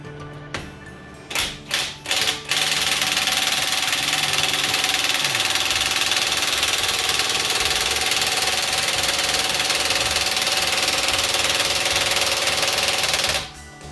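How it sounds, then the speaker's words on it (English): Harmonic balancer puller being tightened on a Chevy 5.7L 350 V8 in a C3 Corvette: a few sharp clicks at the start, then a loud, steady mechanical whir of a power tool running continuously up close before stopping. "It's just a matter of tightening it, and it should remove that harmonic balancer."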